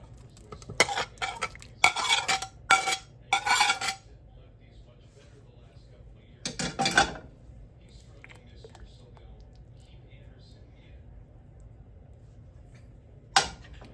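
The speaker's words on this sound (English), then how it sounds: "And now I'm going to add in the sausage." Sausage pieces are added to a pot of homemade tomato sauce and stirred in, making a few close, scraping bursts of stirring, a quieter stretch, then one last brief scrape.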